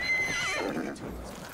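A black horse in the Ghost of Tsushima game gives a loud, close whinny that wavers and falls off, then a few soft hoof clops follow as it settles.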